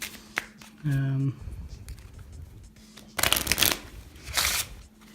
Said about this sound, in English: So they shuffle the cards.